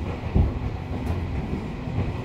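A Tobu TJ Liner train in motion, heard from inside the carriage: a steady low rumble of wheels on rails with a soft rhythmic clatter and one heavier thump near the start, moderately loud, with no talking.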